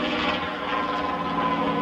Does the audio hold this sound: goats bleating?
no